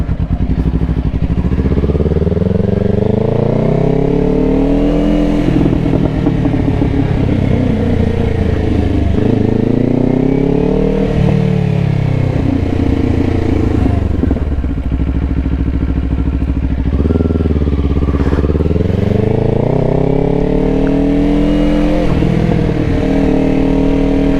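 A 2024 Kawasaki Ninja 500 motorcycle engine revs repeatedly, rising and falling in loud, close pitch sweeps over a steady idle rumble for the whole stretch, with no voices.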